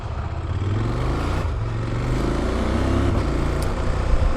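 CFMoto CF 1000 MTX motorcycle on the move, a loud, close engine drone with rising and falling pitch and constant wind rush.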